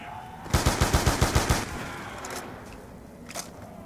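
Automatic gunfire in Black Ops 2 Zombies, a rapid burst of about nine evenly spaced shots followed by a duller trailing shot and game ambience, loud and close with no talk.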